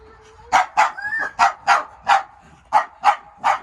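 A dog barks about nine times in sharp, loud, close yaps with a brief whine between them, at a fairly even rhythm on a countryside outing.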